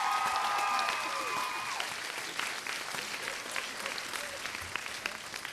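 An audience in a school gym applauds at a variety show, a broad sustained wash of many clapping hands, with a brief tonal sound early on fading under the clapping.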